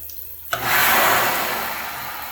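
A men's restroom sink tap is turned on after a short quiet moment, and water gushes out in a loud, steady hiss that continues evenly to the end.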